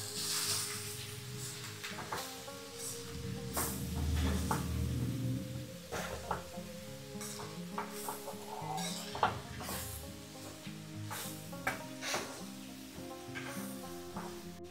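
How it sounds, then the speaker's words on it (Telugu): A spoon stirs bottle gourd curry with salt in a pan, making scattered clinks and scrapes against the metal over a soft sizzle, quiet and close, with faint music underneath. "ఇప్పుడు బాగా కలబెట్టుకుందామండి."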